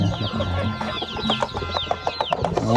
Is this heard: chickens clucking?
yes